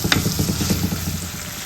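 Curry leaves fry in hot oil in a pan and are stirred for a vegan kovakkai and raw mango curry. The sizzle is steady and close, with a quick run of rhythmic spoon scrapes across the pan and no voices.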